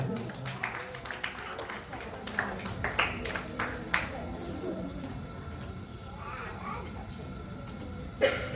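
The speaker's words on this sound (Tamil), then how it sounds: "இங்கே உங்களுடைய உற்சாகமான கரகோஷங்களை வழங்குங்கள் எங்களுடைய அதிதிகளுக்கு" Audience applause for guests at a bridal hair and beauty salon academy talent competition, a steady patter of clapping running under a presenter's voice on the microphone.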